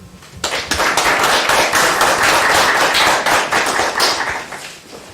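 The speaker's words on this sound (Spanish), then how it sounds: "Si les damos la bienvenida con un aplauso." An audience welcomes a speaker at an academic presentation of an acoustics and vibrations group with loud, dense applause. The clapping starts abruptly, holds steady, then tapers off near the end.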